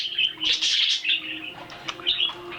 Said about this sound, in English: I hear a lot of chirping over here.